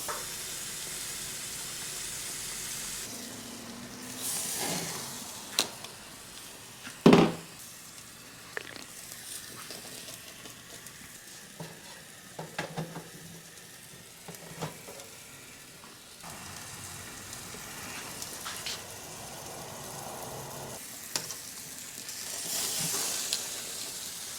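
Steak sears on a Skotti compact camp grill, giving a steady, close sizzle and hiss for over twenty seconds, broken by sharp scrapes and clanks of the meat being flipped and moved.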